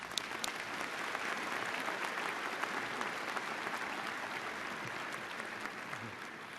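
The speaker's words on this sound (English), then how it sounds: "Please join me in a round of applause for our graduate students." Audience applause for graduate students at a Virginia Tech fall commencement ceremony, a large crowd clapping in a broad, even wash that sounds somewhat distant, sustained without letup.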